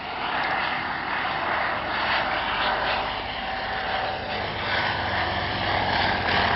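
A vintage First World War aircraft with a Benz six-cylinder engine of about 220 to 230 horsepower runs with a steady, continuous engine roar at a moderate distance, with no talking.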